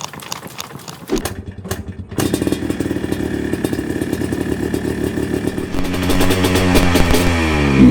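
A restored Yamaha Blaster 200 two-stroke engine running on 30-to-1 oil and gas, its note stuttering and dropping out early, then catching and settling into a steady loud run that builds toward the end.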